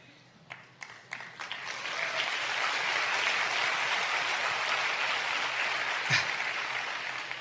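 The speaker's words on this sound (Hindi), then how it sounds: "और जब आप ताली बजाते हैं ना," Audience clapping at a motivational talk, starting as a few scattered claps and swelling into dense sustained applause from a large crowd, with one sharp thump partway through.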